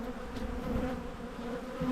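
Honey bees swarm around an open brood box of a hive, their dense, steady buzzing hum close and continuous, with no voices.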